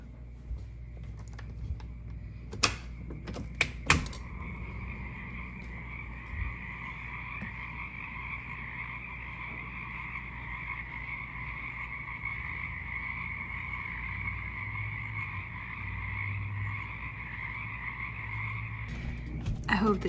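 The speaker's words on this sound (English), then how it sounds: "I have to show you guys how loud the frogs are outside." Loud chorus of frogs croaking steadily outside at night in spring, a dense continuous trilling that fills the whole stretch, with a few sharp handling knocks near the start and end and no talk.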